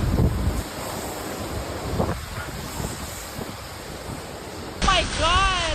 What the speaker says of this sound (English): In Texas, wind gusts of around 75 miles per hour clearly demonstrated why people should seek shelter